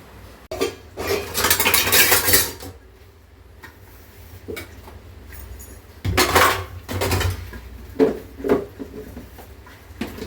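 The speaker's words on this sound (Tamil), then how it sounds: "நான் பாத்திரம் தேய்ச்சிக்கிறேன்" Dishes, pots and cutlery clattering as they are scrubbed and washed, with bursts of running water and scattered metallic clinks and knocks.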